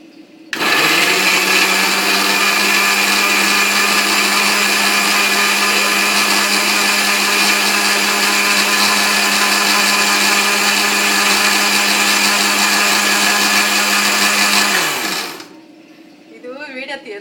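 A mixer grinder runs steadily, grinding keema masala at high speed for around fifteen seconds, loud and close, with a strong whirring drone before it stops abruptly, leaving quieter background.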